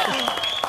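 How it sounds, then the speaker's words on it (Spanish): Studio television audience applauding in a brief, dense burst of clapping while a voice talks over it. "un aplauso, vamos"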